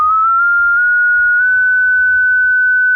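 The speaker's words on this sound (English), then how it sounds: "Sounds like a whistle, someone whistling." A pure, steady 1500 Hz test tone holds for about three seconds, sounding like a continuous whistle, alone against near silence.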